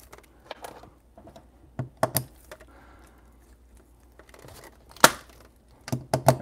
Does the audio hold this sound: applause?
no